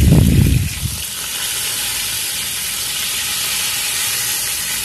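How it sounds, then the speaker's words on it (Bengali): Rohu fish pieces fry on their second side in hot oil in a pan, a loud burst of sizzle and spatter for the first second easing into a steady, softer hiss that carries on alone. "একটা সাইড ভাজা হয়ে গেছে, পাল্টে আর একটা সাইড ভেজে নিচ্ছি।"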